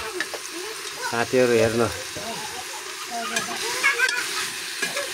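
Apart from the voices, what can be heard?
meat frying and being stirred in a pan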